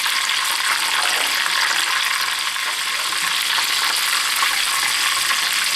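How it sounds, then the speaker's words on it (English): Sausage-wrapped Scotch eggs fry in hot oil with a steady, dense sizzle and crackle that stays close and even throughout, with no voices over it. "the sausage is not golden brown and we're frying"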